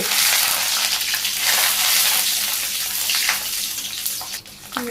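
Mung dal frying in a pan for a vegetable dish, a dense continuous sizzle with faint stirring scrapes, close and steady before tapering off at the end.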